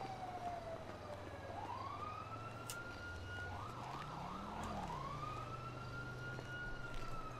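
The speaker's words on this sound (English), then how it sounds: "I can hear sirens." Police sirens in the video game GTA 5, a wailing and yelping siren sweeping up and down at moderate distance over a low engine hum, steady and continuous without talk.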